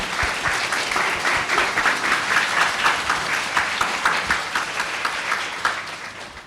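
Audience at a kindergarten graduation ceremony claps steadily and loudly for the teachers, a dense continuous applause that fades slightly toward the end.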